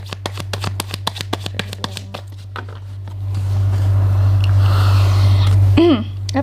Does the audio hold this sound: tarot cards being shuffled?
yes